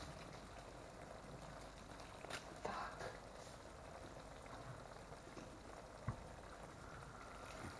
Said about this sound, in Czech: Mezitím se mi vaří ta rýže